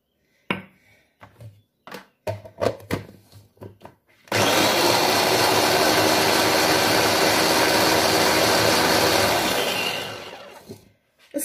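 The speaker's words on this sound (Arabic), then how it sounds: "نزيد نرحاها ونخلط معاها الجو تاع الرمان، عصير الرمان" An electric blender whirs steadily for about six seconds, blending aloe vera with pomegranate juice. A few short knocks and clatters come first, and the motor then winds down at the end.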